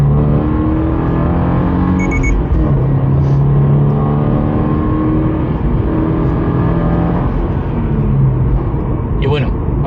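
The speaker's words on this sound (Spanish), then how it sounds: "Acabo de meter sexta, y en sexta el coche se mueve." A Toyota GR86 engine drones loudly and steadily in sixth gear while climbing a hill, a constant close cabin hum with someone talking over it throughout.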